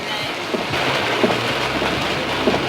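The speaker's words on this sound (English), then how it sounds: "But it's raining quite badly." Heavy rain falls steadily outdoors as a dense, continuous hiss, with faint voices and some low rumbling in the background.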